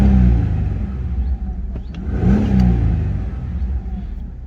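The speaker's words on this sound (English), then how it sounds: "I'll just give it a little rev so you can hear that beautiful V6 sound" A 2004 Jeep Grand Cherokee 3.7 V6 4x4 revs up from idle, its engine note rising into a swelling rumble and then easing back down, heard up close through a slightly open window with no talking.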